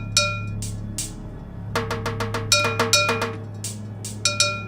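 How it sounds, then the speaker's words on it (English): A cheesy 1990s-style drum machine beat played from a cassette tape loop gives a steady, loud pattern of clicky, cowbell-like hits over a constant low hum, with a short gap before the rhythm comes back in. "cheesy 90s drum machine sounds"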